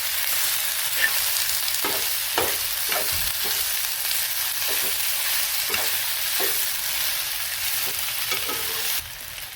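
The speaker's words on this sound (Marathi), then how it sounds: "आता हा निथळायला ठेवलेला पास्ता आपण टाकू। याला मिक्स करून घेऊ।" Drained pasta tossed and stirred in a hot pan, a steady close sizzle of frying with repeated scraping knocks of the spoon against the pan throughout, no voices.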